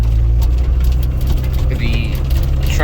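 An old truck's inline-six engine with a straight pipe idles close by, a loud, steady low rumble that holds even throughout, with faint rattles from the cab.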